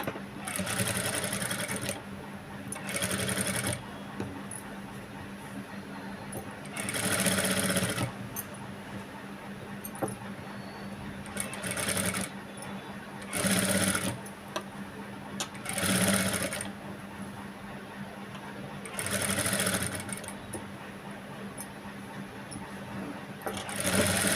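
A sewing machine with a normal presser foot stitches thread piping onto a boat neck, running in about seven loud bursts of rapid stitching separated by pauses.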